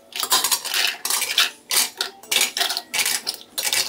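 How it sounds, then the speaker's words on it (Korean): Scallops clatter into a metal strainer in a kitchen, giving a string of bright, close metallic rattles and clinks in uneven bursts of roughly half a second each, with no talking. "가리비를 이렇게 넣고"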